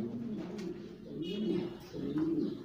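Domestic pigeons cooing in a loft, low soft coos repeating in overlapping phrases at close range, with a faint background hum and no talking.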